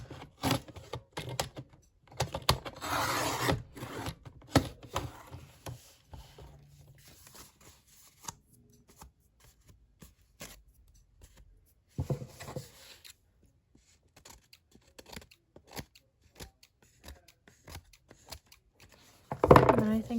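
Paper trimmed to six inches for a cruise-themed 6x6 photo mini album: scattered soft snips and paper rustling, fairly quiet, with a busier cluster early on and a sharper burst at the very end.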